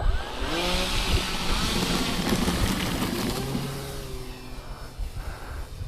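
Electric motor of a Voltanex Trainstar Ascent 1400mm RC plane on its maiden flight, a steady buzzing whine held at moderate throttle with slight pitch shifts, fairly close and continuous throughout.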